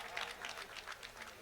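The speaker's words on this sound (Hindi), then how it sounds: "जोरदार तालियां।" Audience applause at an Urdu mushaira and kavi sammelan in East Champaran, heard as a short, faint, even patter of clapping from a crowd.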